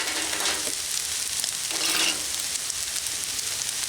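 Beef stir fry with sauce glaze sizzling on a Blackstone griddle, a steady loud frying hiss with two brief scraping stirs of the spatula, no talking.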